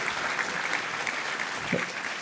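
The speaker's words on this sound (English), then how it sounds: "So she deserves an extra round of applause." Audience applause at a political rally, steady and sustained clapping from a crowd filling the whole moment at moderate loudness.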